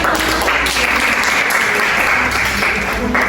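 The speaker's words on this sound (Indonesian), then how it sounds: "boleh tepuk tangan" A primary school classroom of pupils claps together, a dense steady burst of applause for a classmate, loud and close, continuous for a few seconds without talk.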